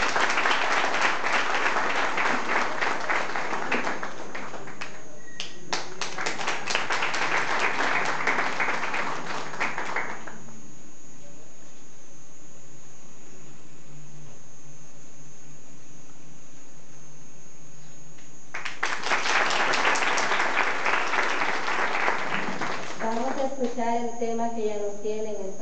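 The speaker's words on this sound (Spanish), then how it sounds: "Un fuerte aplauso, por favor." Audience at an evening pageant crowning a queen breaks into applause, clapping in loud bursts separated by a quieter stretch, with a voice speaking near the end.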